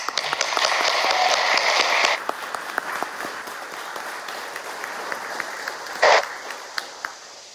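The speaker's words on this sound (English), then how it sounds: "can we give her an applause to Mary Lane?" A church congregation at a Baptist Sunday worship service applauds, with loud, dense clapping for about two seconds, then scattered claps trailing off and a brief second burst later.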